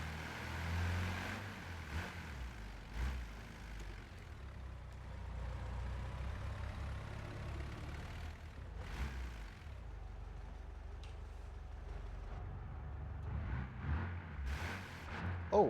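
Volkswagen Brasília with its 1600 boxer engine and carburetor, driven in BeamNG Drive, rumbling steadily at a low idle-like drone with occasional revs and a few brief sharper bursts, no talking.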